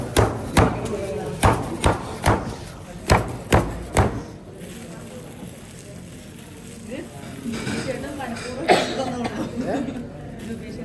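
Mango pounded on a stone with salt and chili: about eight loud, evenly spaced thuds in quick succession, then quieter scraping handling sounds while people talk and laugh nearby.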